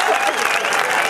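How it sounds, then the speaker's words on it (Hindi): A crowd at an all-India Hindi poetry gathering in Tonk applauds with dense, continuous, steady clapping that fills the whole brief moment. "जोड़ा तालियां बजा दीजिए"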